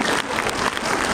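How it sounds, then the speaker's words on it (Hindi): Audience in an auditorium hall in Lucknow during a committee meeting clapping loudly, a brief burst of dense, steady applause filling the room. "जोरदार ताली बजा के स्वागत करिए।"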